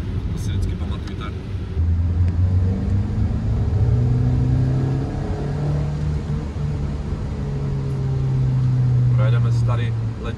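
A sixth-generation Honda Civic rounds a wet roundabout, its engine droning and rising in pitch with a steady road rumble heard from inside the car, while someone talks over it.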